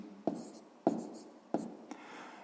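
Three brisk bursts of pen or pencil handwriting digits on paper while working a sixth-grade multiplication problem, close and fairly quiet, with a faint trailing scratch at the end.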